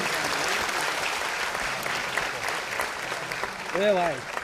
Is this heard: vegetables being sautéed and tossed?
no